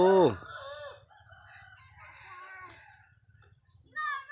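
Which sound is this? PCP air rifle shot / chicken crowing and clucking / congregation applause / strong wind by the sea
chicken crowing and clucking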